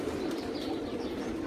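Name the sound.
pigeons cooing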